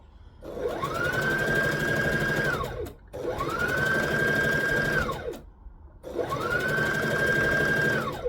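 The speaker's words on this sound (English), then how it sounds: "That's another advantage to going fast with the overlocker." Overlocker running fast in three long bursts of steady whirring stitching, each separated by a short pause, close and loud with no talking.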